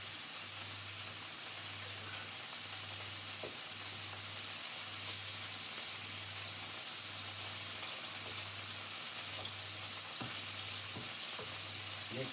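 Eggs and bacon sizzle steadily in a pan while being stirred, a dense continuous frying hiss with occasional light scrapes and a faint rhythmic hum beneath.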